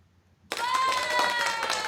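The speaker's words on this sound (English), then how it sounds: "Round of applause going for the one" Audience applause bursting in suddenly after a moment of quiet, a dense, close round of clapping that holds steady to the end.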